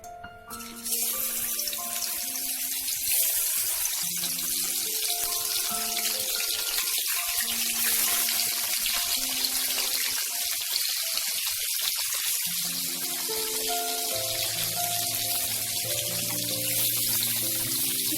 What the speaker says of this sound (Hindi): देख सकते हैं हमारा ऑयल गर्म हो चुका है। अब हम इसमें फिश डालेंगे।